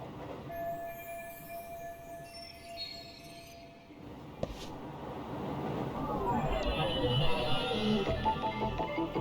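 Train ride ambience in the Lost Judgment video game: a rumbling carriage with a brief high tone early on, a sharp clank midway, then louder rattling, screeching wheels as the train runs on.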